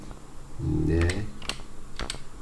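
Keys clack on a computer keyboard during editing work: a short burst of typing with a few distinct sharp taps, and a brief murmur of a voice near the start.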